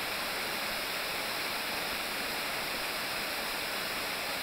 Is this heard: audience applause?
no